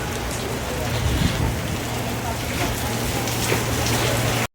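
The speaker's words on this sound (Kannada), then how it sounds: "ಫುಡ್ ಫೆಸ್ಟಿವಲಲ್ಲೇ ಮಳೆ ಸ್ಟಾರ್ಟ್ ಆಗೋಯ್ತು" Rain falling at an outdoor food festival during Mysore Dasara, a loud, dense, steady hiss of drops on surfaces that continues unbroken and cuts off abruptly at the end.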